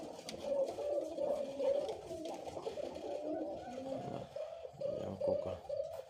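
An imported Koka pigeon from Africa coos continuously with repeated soft, throaty calls, faint and close, against a quiet background.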